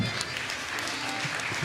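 Church congregation applauding during a mass in Sacapulas, Quiché, Guatemala, a dense sustained clapping from many hands filling the room at moderate volume.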